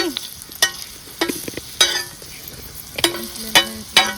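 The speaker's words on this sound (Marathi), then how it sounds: "तव्यात आई तळून घेते धोंड" Dhonde, wheat-flour dough stuffed with puran, fry in oil in a pan, with a soft steady sizzle broken by sharp clinks and scrapes of a utensil at irregular moments.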